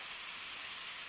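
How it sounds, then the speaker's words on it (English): Soy sauce hits a hot pan of stir-fried chicken for spaghetti and sets off a steady, soft hiss of sizzling that holds evenly throughout with no voices over it. "I just love that sizzling sound when you put your soy sauce"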